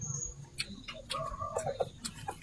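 Chickens clucking nearby, a few short irregular clucks and bird calls over low background noise.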